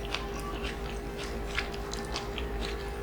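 Crunchy homemade beef and chicken burger being chewed close up, steady soft crunching and mouth sounds throughout over a low background hum.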